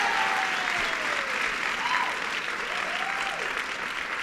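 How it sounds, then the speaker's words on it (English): Audience at a Women's March breakfast applauding a woman named as New York's first female secretary to the governor: full, sustained clapping from a large room, with a faint voice or whistle briefly rising above it. "Let's give her a round of applause."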